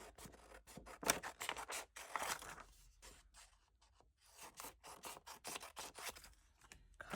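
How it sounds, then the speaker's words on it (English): Scissors snipping through paper scraps while making a junk journal, a close run of quick crisp cuts and rustling paper that pauses briefly midway and then resumes. "I'm going to get my scissors and just"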